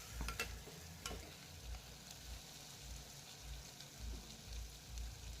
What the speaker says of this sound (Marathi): चिकन टाकून त्याला परतून घ्यावे